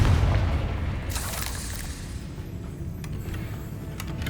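The Confringo fire spell in Hogwarts Legacy lands with a loud booming blast at the start, then a burst of crackling debris and a fading rumble that tails off into ambient game noise.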